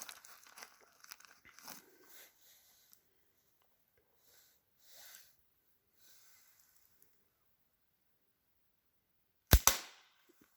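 A single sharp gunshot at a shooting target cracks out loud and close near the end, after a stretch of quiet with faint rustles and soft scattered sounds.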